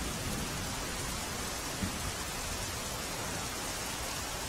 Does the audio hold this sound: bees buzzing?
no